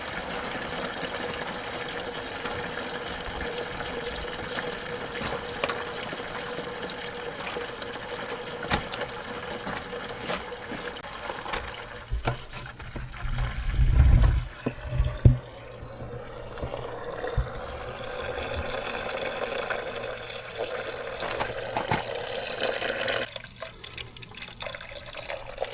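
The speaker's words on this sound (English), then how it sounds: "there's still antifreeze, and if you can see there, it's still dripping out the bottom of there" Antifreeze coolant drips steadily from beneath a Mercedes 410D during a coolant flush, a faint continuous trickle and patter with a few louder splashes midway, no talking.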